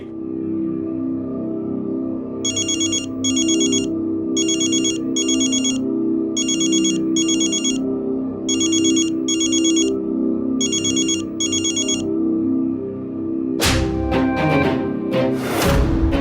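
An electronic phone ringtone plays in repeated paired bursts of bright beeping tones over a background hum, ending in a sudden loud clatter.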